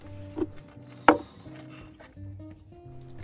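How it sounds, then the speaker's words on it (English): Hazelnuts crushed under the flat side of a knife on a board, a couple of sharp cracking knocks against low kitchen hum, the loudest strike near the middle, with faint scraping after. "I'm just going to crush them with the side of a knife"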